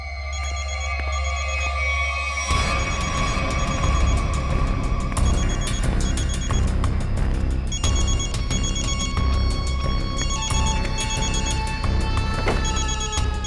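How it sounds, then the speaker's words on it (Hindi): A mobile phone rings nearby at a crime scene in the CID police drama, its repeating ringtone loud and steady, growing fuller after the first couple of seconds and continuing throughout. "घंटी तो बज रही है, फोन का यही आसपास है"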